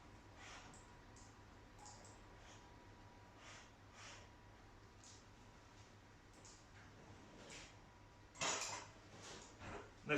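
In a quiet kitchen where a vine tomato and camembert quiche is being made, soft handling noises give way to a small kitchen knife being picked up with a short, sharp clatter of cutlery near the end.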